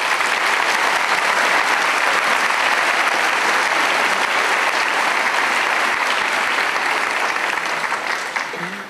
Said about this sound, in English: Let's give him another round of applause, please.